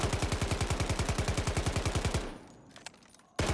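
A rapid, steady automatic burst of gunfire rattles out from a weapon in the shooter Delta Force, fired without recoil control for about two seconds, then quiet aftermath before one more loud shot.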